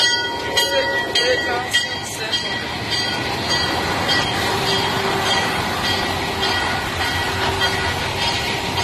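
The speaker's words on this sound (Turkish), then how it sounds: "Dolmacı Güçlü Treni" A train rolls past close by, its carriages giving a steady rumble with clattering wheels on the rails and occasional metallic squeals, loud and continuous throughout.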